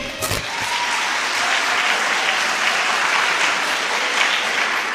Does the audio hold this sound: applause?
yes